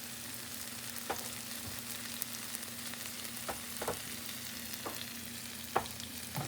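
Butter melts in a pan for hash browns with a steady, soft crackling sizzle, punctuated by a few light pops and occasional faint utensil ticks, close and without talking.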